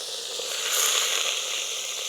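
Beef dropped into a pan of frying ginger and garlic while cooking outdoors in a forest, giving a steady close sizzle and hiss that swells briefly, with no voices over it.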